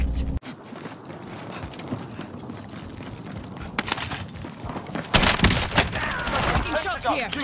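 Gunfire and bursts of explosions in a military shooter video game, crackling near and far in uneven volleys that grow heavier toward the end, with radio chatter and voices mixed underneath.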